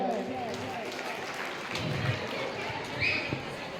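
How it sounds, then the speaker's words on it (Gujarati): Applause breaks out in the audience at a community student awards ceremony, a dense, even wash of clapping held at a steady level throughout. "જોરદાર તાળીઓ થઈ જાય"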